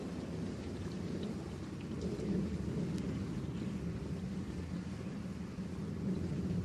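A thunderstorm rages with heavy rain, a constant dense roar of falling water with rumbling thunder swelling through it, loud and unbroken from start to finish, with no voices.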